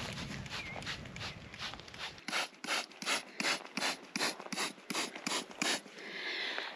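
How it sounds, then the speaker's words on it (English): Hands rub a dish soap and water mixture onto the leaves of a tree, starting with a rustling brush and then settling into a run of about a dozen quick, regular swishing strokes, close and moderately loud. "So I'm going to try to get that on all the leaves, rub it all in"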